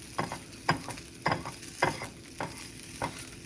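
Taco filling cooks in a pan for cheap street tacos, giving a steady low sizzle broken by about six rhythmic bursts of stirring and scraping, close and moderately loud, with no talking.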